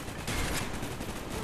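Minigun firing in the Call of Duty: Black Ops video game, a brief, continuous roar of rapid gunfire at high volume.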